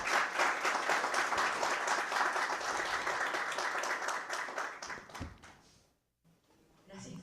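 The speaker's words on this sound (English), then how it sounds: "So please, a round of applause for our participants." Audience at a session on financing electrical transmission lines applauding participants, a full round of clapping that fades out near the end, followed by a brief pause and a voice speaking.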